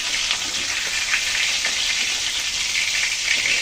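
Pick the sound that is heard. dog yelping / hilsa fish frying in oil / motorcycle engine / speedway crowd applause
hilsa fish frying in oil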